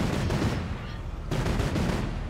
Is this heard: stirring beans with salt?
no